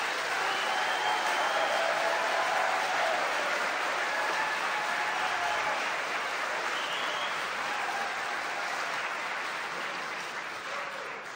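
An audience at a public talk on coalition governance answers a question with applause. Sustained clapping from a large crowd rolls on steadily, with faint whoops and voices mixed in, then gradually thins toward the end.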